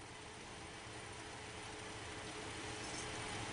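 A small DC motor spins steadily on about a volt from a flashlight battery, giving a continuous, even whir with a faint hum that holds constant throughout.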